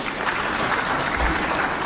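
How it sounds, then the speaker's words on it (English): A crowd at a Kenyan political rally breaks into brief, dense applause, a steady wash of clapping at close range lasting a couple of seconds. "we give him a clap"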